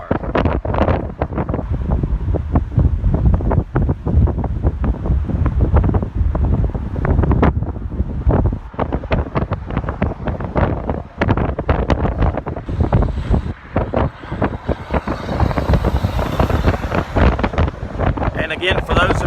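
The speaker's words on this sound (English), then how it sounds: "Extremely windy conditions out here" Strong wind gusts on a bridge batter the microphone with heavy, continuous low rumbling and buffeting that surges and dips throughout.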